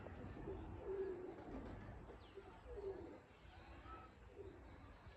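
Soft, low pigeon coos repeat several times at a moderate distance from four or five pigeons perched on a house roof, over a quiet background hum.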